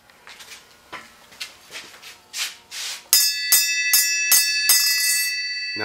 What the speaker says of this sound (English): Are you too big to ring the bell, or can you do that?